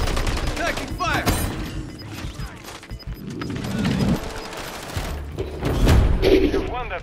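Dense gunfire in the video game Call of Duty: Modern Warfare 3, capture the flag on the Highrise map: continuous rapid shots and crashing impacts over a busy combat mix with game voice callouts.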